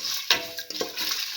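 A spoon stirs garlic mung bean tamarind stew in a pressure cooker, with close scraping and soft clinks against the pot over a low sizzling background.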